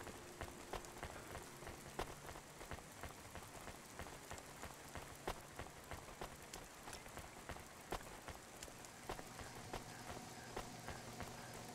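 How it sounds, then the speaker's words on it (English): Steady, soft rain patters throughout in the video game Cloudpunk, with scattered sharper drip ticks and faint low tones in the background. "I see it still rains indoors."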